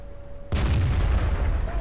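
A tank cannon shot in World of Tanks, fired by an M36 Slugger on the Lakeville map, one sudden heavy boom followed by a long rumbling tail.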